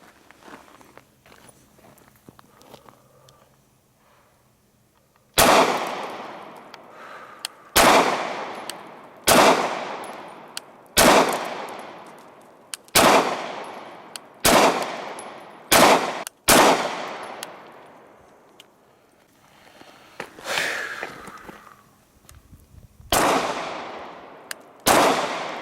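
A Canik TP9 pistol fires a full magazine outdoors, about a dozen sharp, loud shots at irregular intervals, each ringing out with a short echo.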